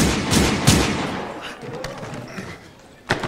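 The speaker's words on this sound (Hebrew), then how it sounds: "שמעת יריות?" Gunshot sound effects ring out in a Hebrew end-of-year school stage play, two sharp cracks close together, then a quieter stretch with small thumps before a third loud bang.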